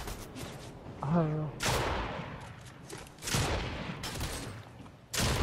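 Bots firing guns in the Fortnite video game, with several loud bursts of gunfire arriving in volleys, and a voice speaking briefly between the shots.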